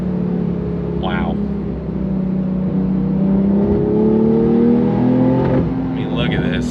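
Turbocharged flat-six of a 2022 Porsche 911 GTS building revs, a steady engine drone with rising harmonics that climb smoothly as boost builds, heard from inside the car under continuous talk.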